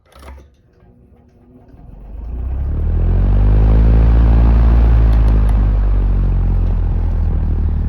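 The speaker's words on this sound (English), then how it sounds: "I'll give you a start up from the back side so you can see that blade wind up" A 1949 Emerson electric fan starts from rest, a faint click then a low hum that swells over a few seconds into a loud steady whooshing rumble as the blade winds up to speed, up close.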